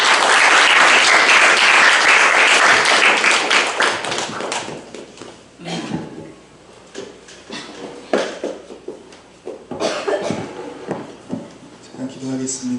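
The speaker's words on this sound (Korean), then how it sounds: "우리 선교사님을 박수로 환영하도록 하겠습니다." Applause from a church congregation welcoming a missionary at a Sunday mission dedication service, loud and sustained for about four seconds, then fading into scattered claps, taps and low murmuring.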